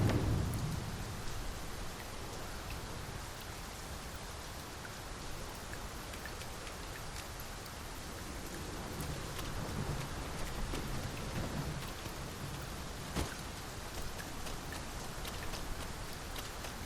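Steady rainfall in the video game Dragon's Dogma 2, a dense, even patter of drops at low level throughout, with a faint low rumble early on.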